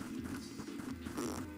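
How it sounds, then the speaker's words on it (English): Game fart sound effects from the bear game The Bears Black Heart, a continuous low buzzing rasp with repeated pulses over about two seconds, moderately quiet with a faint background score. "I always wanted to be farting this whole time while roaming through the forest."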